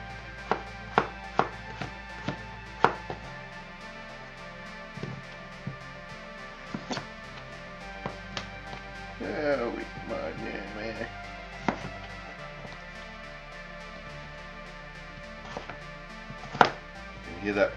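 Knife chopping potatoes into rough cubes on a cutting board, a series of sharp irregular taps with a brief cluster of faint sizzling, butter heating in a pan, in a home kitchen while a person talks.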